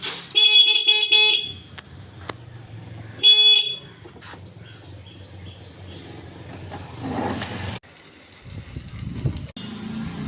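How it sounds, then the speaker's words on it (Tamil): A Hero NYX electric scooter horn sounds in two loud, buzzing honks, the first about a second long and the second shorter, followed by quieter mechanical clicks and low hum from the scooter. "கீ ஆன் பண்ண ஸ்டார்ட் பண்ணி ஹாரன் அடிச்சு காமிக்கிறேன் பாருங்கள்."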